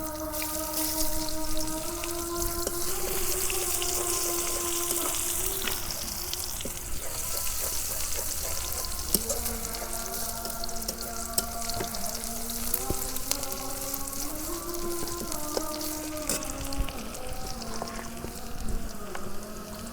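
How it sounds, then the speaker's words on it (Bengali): Chopped onion frying in hot mustard oil, a steady hissing sizzle underneath a wavering tonal melody that runs over most of the stretch, with a few small clicks and no clear talk. "প্রথমে সরষের তেল দিলাম, তেল গরম হয়েছে, এখন পেঁয়াজ কুচি দিয়ে দিই।"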